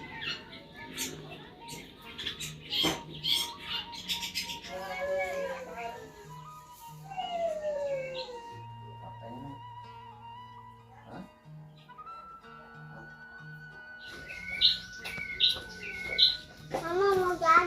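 Bright chirps and short whistled bird notes over a busy household scene, with voices, clatter and some whimpering nearby.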